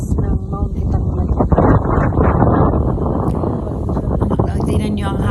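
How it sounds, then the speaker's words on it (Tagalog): Strong, cold wind on Mount Itanglay buffets the microphone in a steady low roar while a person talks over it. "Ang hangin, ang lakas ng hangin, tapos ang lamig."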